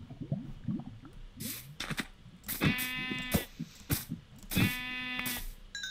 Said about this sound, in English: Is that a third sheep?